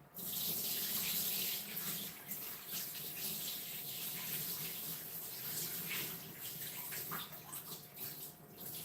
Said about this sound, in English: So I'm rinsing my rice right now.